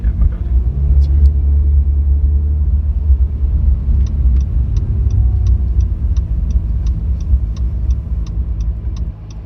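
Inside a 2018 Acura NSX on the road, the engine and tyres give a loud, steady low rumble, and a run of evenly spaced turn-signal ticks comes in partway through.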